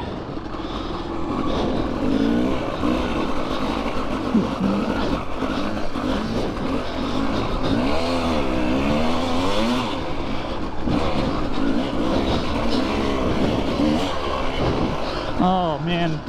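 A 2-stroke KTM 300XC-W dirt bike is ridden off-road, its engine loud and continuous with wavering revs rising and falling as the throttle changes, heard up close from the rider's position.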